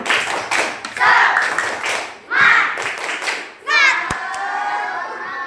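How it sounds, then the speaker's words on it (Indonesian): Classroom of schoolchildren performing a patterned spirit clap, bursts of clapping in rhythmic groups with children's voices chanting along, ending in a sustained shout. "Oke, tepuk semangat."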